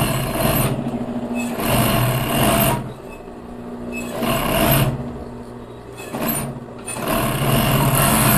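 A sewing machine stitches ribbed knit fabric for a cropped top in four or five quick whirring runs, each separated by a short pause, close and fairly loud.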